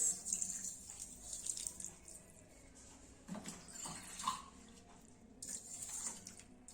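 Water pours and splashes onto sugar in a metal pan in a few uneven bursts, fairly quiet, with no talking.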